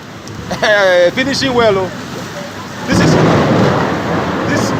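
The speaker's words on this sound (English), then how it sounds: "3 minutes rain in Uber Road" Heavy rain on Uber Road in GRA, Benin, a dense hissing downpour that swells loud midway through, following a stretch of someone speaking over the wet background.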